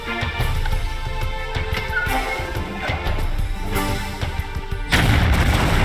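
Gunfire and heavy explosive blasts from a grenade launcher in Tomb Raider III Remastered, set in a Nevada high-security compound, with repeated bangs over a loud continuous music track and a bigger boom near the end.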